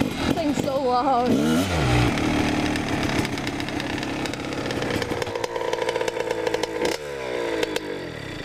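A Honda CR dirt bike engine runs loud and close, revving with rising and falling pitch against a raspy two-stroke-like drone, while people talk over it.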